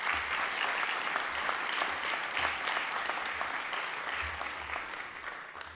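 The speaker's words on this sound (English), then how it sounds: "Give yourselves a round of applause." Audience applause at an award ceremony honoring student heroes, a steady, dense wash of clapping from a large crowd that fades slightly toward the end, with no talk over it.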